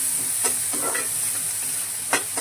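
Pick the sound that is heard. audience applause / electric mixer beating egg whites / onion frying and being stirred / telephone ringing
onion frying and being stirred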